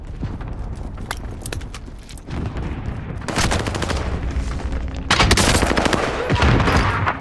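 Heavy gunfire in the video game Call of Duty: Modern Warfare: dense, loud bursts of automatic fire and shots that rattle on and grow more intense and continuous toward the end.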